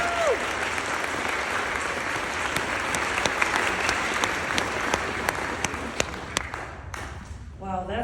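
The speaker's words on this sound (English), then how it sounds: "Please join me in a round of applause as we welcome our 2023 CTA Commencement speaker" Applause at a high school commencement ceremony welcoming the speaker, sustained crowd clapping with a few sharper individual claps standing out as it tapers near the end.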